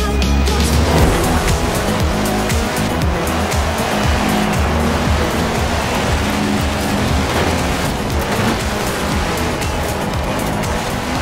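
A race car tearing through a dirt race in Forza Horizon 4, with a loud, steady engine roar, tire squeal and the gravelly rush of loose dirt running throughout without a break.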